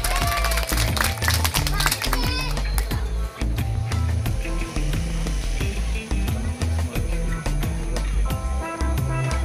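Applause and scattered clapping from a crowd at a neighborhood Ramadan festival prize ceremony, mixed with loud music, percussive thumps and background voices, lively and busy throughout.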